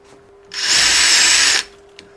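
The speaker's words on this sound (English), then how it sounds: "I think I might just hone them by drilling into the end grain of a block of wood" A power drill runs a bit into the end grain of a wood block, giving one steady, loud, close whine of about a second that starts and stops sharply.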